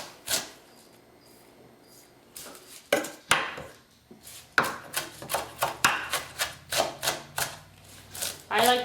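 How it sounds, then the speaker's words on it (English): A knife chops dandelion greens with stems on a cutting board as iguana food, a quick run of sharp, close, evenly spaced cuts that builds toward the end after a few scattered early strikes. "I like to chop this up a little finer for my adults because of the stems that I leave in. So I'm going to chop that up just like that."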